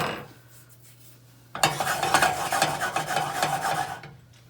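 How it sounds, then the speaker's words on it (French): Remaining sugar tipped into a pan of blond caramel and stirred, a dry scraping, rasping rattle that starts abruptly after a quiet low hum and continues steadily and close for a few seconds before fading. "Je viens rajouter le reste, la totalité, le reste du sucre."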